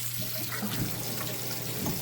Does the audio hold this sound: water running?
yes